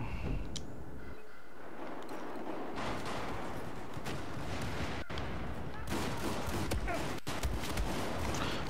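Shotgun blasts boom in Battlefield 4 during a night operations match, with a couple of sharp reports standing out against a dense, constant battle roar of gunfire and explosions. Loud throughout, with a voice talking at times.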